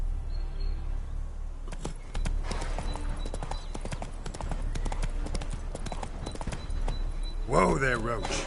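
The horse Roach in The Witcher 3 clip-clops with rhythmic hoofbeats close by, while a voice speaks over them and a short neigh sounds near the end.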